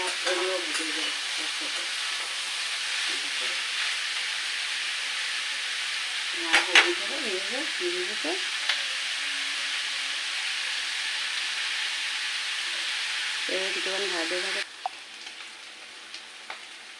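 Pieces of teasel gourd and potato fry in a pan with a loud, steady sizzle and hiss for most of the time, broken by a few scraping stirs, then the frying sound drops sharply near the end.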